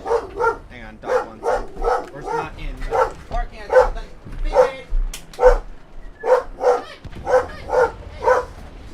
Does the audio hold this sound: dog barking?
yes